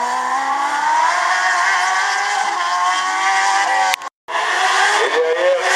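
Engine of a BRC race car at a timed slalom event, a loud sustained high-revving drone with shifting pitch and a brief cut near the middle before it resumes at full strength.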